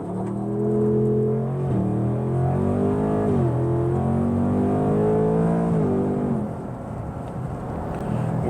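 A 2024 Ford Mustang GT launches hard from launch control, its V8 climbing loudly through gears with short dips at each shift before settling into a steady roar, heard close from inside the cabin.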